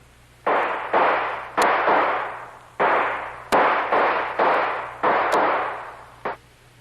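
Gunfire in a radio drama set between airport hangars: about a dozen sharp, loud shots in uneven bursts, each ringing out with a short echoing tail, with no voices.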